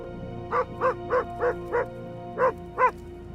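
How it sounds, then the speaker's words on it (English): A dog barks excitedly at a muskox outdoors: seven sharp, evenly spaced barks over a faint steady background hum, close and clear. "The filmmaker is already really close when his dog Sita starts getting excited."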